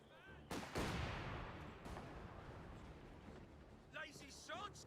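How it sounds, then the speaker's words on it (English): Mortar fire in Company of Heroes 2, a heavy explosive boom followed by a long rumbling decay, with lighter crackling blasts and game voice chatter toward the end. "Mortar rounds and bloody close."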